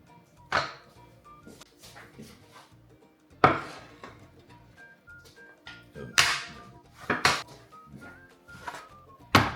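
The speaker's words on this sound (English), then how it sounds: "Now slice the onion into nice round pieces" A knife slices an onion into round pieces on a board: a handful of crisp, irregular cutting strikes close by, with quiet clinks and soft music underneath.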